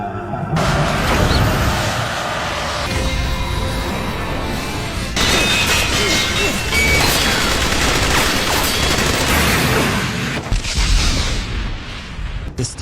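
Anime fight effects of rapid gunfire and missile blasts, a dense, loud barrage of shots and booms that runs continuously with only brief shifts in intensity.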